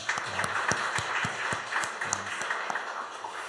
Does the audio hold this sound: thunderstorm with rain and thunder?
no